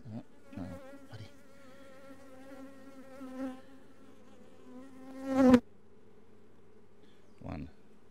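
Honey bees buzz softly and intermittently at a beehive, a few close passes standing out with sharp bursts, against a quiet background.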